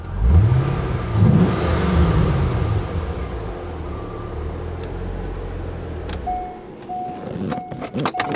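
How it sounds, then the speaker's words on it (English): A 2003 Chevrolet Corvette's engine revs up loudly, the pitch sweeping upward twice before settling into a steady idle, followed by a few faint clicks and a brief tone near the end. "I'll rev it up for you real quick"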